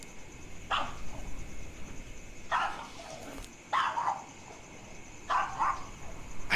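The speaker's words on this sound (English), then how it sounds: "What are you barking at this time, buddy?" A dog barks in four separate bursts spaced a couple of seconds apart, moderately close, over a steady background hiss with a faint high electronic whine.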